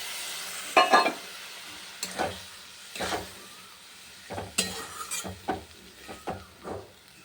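Masala of ground cumin and Kashmiri chilli powder cooked with a splash of water, stirred in a pan with a low steady sizzle and about eight separate scraping stirs spaced across the stretch, no voices.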